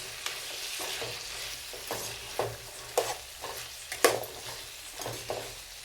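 Potato, carrot, cauliflower and capsicum stirred in a pan for village-style vegetable biryani: a low sizzle under irregular scraping strokes and occasional louder clanks of a spoon against the metal pot.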